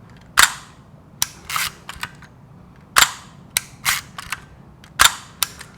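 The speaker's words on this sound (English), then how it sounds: "Now I'm going to show you a slightly faster shutter speed." A camera shutter firing at a faster speed, each release a sharp, loud mechanical click quickly followed by a second snap, repeated about three times at roughly one-to-two-second intervals against quiet background hiss.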